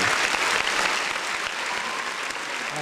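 A small group applauds in a steady round of close clapping, celebrating a brother's track win, and the clapping holds at an even level the whole way through.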